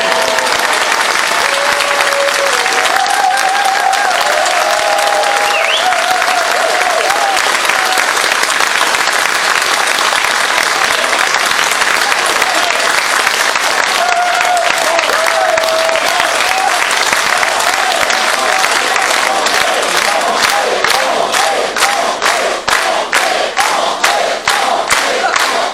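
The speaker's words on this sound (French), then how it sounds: "je vais vous demander un tonnerre d'applaudissements" A concert hall crowd gives a long, loud, continuous round of applause for André, an accordion player on his last night, with scattered cheers and shouts rising over the steady clapping throughout.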